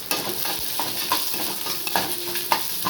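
Garlic cloves and dried red chillies frying in a pan of oil, a steady close sizzle with scattered pops and spoon scrapes throughout.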